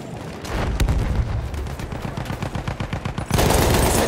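Battlefield 1 combat with rattling machine-gun bursts in a fast pulsing rhythm, then a louder grenade blast near the end.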